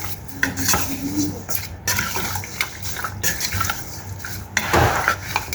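Wet mixing and scraping of chicken marinated with turmeric and garam masala in a bowl, with soft clinks and squelches coming in irregular bursts close up.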